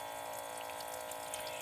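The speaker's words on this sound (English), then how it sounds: "And we're just going to fill it up with water, cold water." Cold water runs from a tap into a washing basin inside a van, a steady hissing rush of filling water that continues evenly throughout, close by, with no voices.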